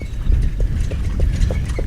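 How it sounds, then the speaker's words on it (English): Horses clip-clopping at a racecourse, a steady rhythm of hoof beats under a low rumble of background noise, moderately close. "You can hear the clip clop of horses."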